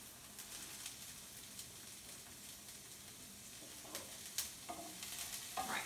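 Sausage and onions for a breakfast casserole are stirred in a frying pan, giving a soft, steady sizzle with light scraping and a few sharp utensil clicks near the end.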